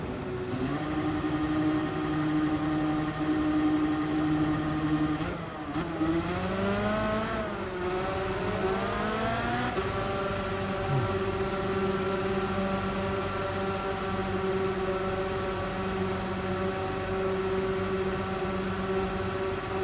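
Go-kart engines in Gran Turismo 7 hold a steady high-pitched drone, with a brief rising rev as the pitch sweeps upward midway before settling back into a constant buzzing whine.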